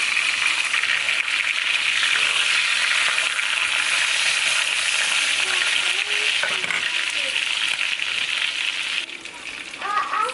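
Ribeye steak sizzles steadily in a cast iron pan on a stovetop, a loud continuous frying hiss, with a few soft clinks near the end as the sizzle eases slightly.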